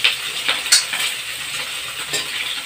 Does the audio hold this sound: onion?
yes